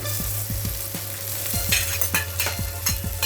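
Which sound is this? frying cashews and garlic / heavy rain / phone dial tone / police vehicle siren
frying cashews and garlic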